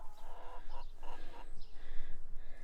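Homestead chickens cluck close by in a string of short, fairly quiet calls, several birds overlapping over a few seconds.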